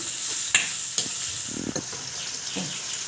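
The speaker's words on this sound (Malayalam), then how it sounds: "ഇനി നമ്മൾ കുറച്ച് ഉപ്പിട്ട് കൊടുക്കാം നന്നായി വഴറ്റി കൊടുക്കുക" Sliced okra (ladies finger) sautés with salt in a pan, giving a steady soft sizzle with a few sharp clacks of a spoon or spatula against the pan and gentle scraping stirs.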